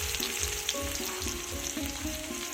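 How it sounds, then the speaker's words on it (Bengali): Onion, garlic, green chili and black cumin seeds sizzle in hot oil, a dense continuous crackle with rhythmic stirring scrapes close by. "পেঁয়াজ, রসুন, লঙ্কা, কালো জিরে ভালো লাল লাল করে ভেজে নেব"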